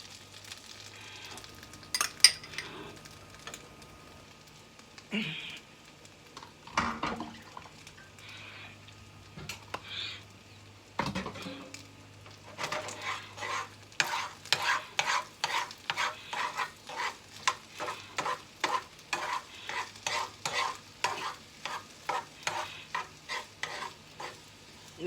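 An egg frying over high heat while being stirred in a pan: a quieter sizzle with a few scattered knocks at first, then a rapid run of sharp scraping stirs over the crackle, with no talking.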